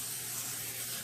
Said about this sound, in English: And I'm going to spray my